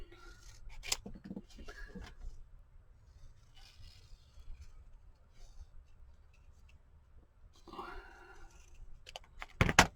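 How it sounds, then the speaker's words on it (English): Scissors snipping a small, wonky heart shape out of patterned paper from a budget craft paper pack, a few quick close crisp cuts around the two-second mark and again near the eighth second, with light rustling of paper between. "so let's just cut a little heart then"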